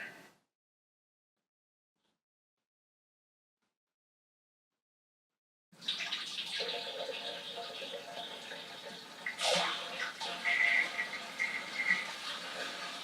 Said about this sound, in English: we can now top up with water